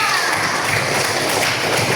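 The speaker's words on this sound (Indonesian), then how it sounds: "Tepuk tangan buat saya" A classroom of children claps together, a dense, steady patter of applause lasting a couple of seconds with some murmuring mixed in.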